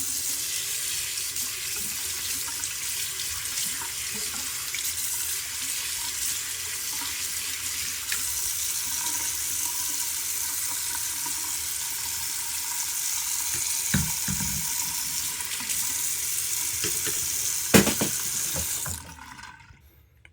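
Water runs steadily from a tap while a head shaver is rinsed under it, a continuous close hiss with a few splashes and clunks near the end before it shuts off.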